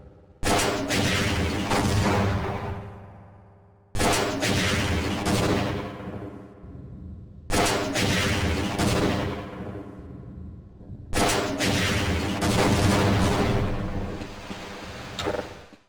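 Tank-fight gunfire in the game Half-Life booms in four heavy blasts, each about three and a half seconds apart and each trailing into a long, rumbling decay.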